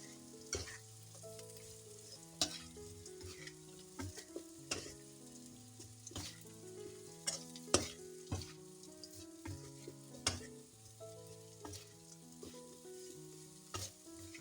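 Anchovies frying in a pan while being stirred, a constant soft sizzle broken by repeated sharp scrapes and clicks of the utensil against the pan, close and fairly quiet with no talk.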